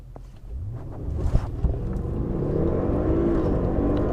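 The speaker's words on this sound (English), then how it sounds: "And then we are going to launch, doing 0 to 60 in well under 4 seconds in a giant luxury sedan." A 2017 Audi S8 Plus luxury sedan launches from a standstill, its engine note climbing steadily through the gears as road and wind noise build inside the cabin.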